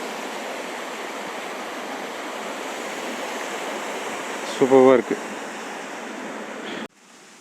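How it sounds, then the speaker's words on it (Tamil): Water rushes through a sluice gate near the Shiva temple at Aathuparai, a steady, loud broadband roar from close by that continues unbroken, briefly overlaid by a short spoken comment before cutting off near the end. "ஒரு மதகு தண்ணி செம்மையாக போகுதுங்க"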